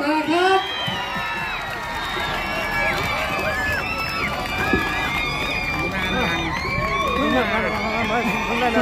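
A large crowd at a Navy Music Festival cheers, whoops and shouts to welcome a guest singer, a dense, loud, continuous roar with high shrieks and voices throughout.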